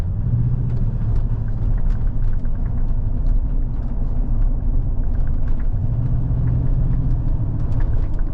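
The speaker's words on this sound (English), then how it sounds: "this is a really rough road, and I'm not feeling hardly any feedback from the suspension" A Toyota Tundra TRD Pro pickup with Fox 2.5 shocks rolls over a rough road, giving a steady low cabin rumble and engine drone with faint rattles and bumps over it, no talk.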